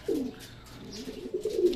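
A racing pigeon coos close by in a loft, two low throaty rolling calls separated by a short pause, with faint background rustle.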